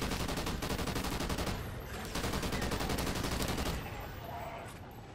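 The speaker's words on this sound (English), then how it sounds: "I think it's an LMG, isn't it?" Light machine gun firing in Call of Duty: Ghosts Extinction mode, loud sustained automatic bursts rattling nearly continuously, with a brief lull before the firing resumes.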